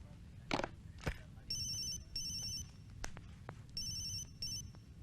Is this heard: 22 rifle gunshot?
no